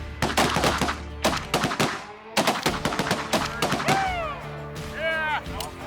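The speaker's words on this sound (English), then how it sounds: "Keep shooting, keep shooting. Shoot it, shoot it." Rapid shotgun blasts from a goose hunt in a blizzard in Saskatchewan, a dense volley of close, loud bangs with brief pauses, while hunters shout over the shooting.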